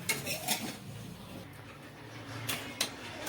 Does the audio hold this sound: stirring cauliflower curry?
yes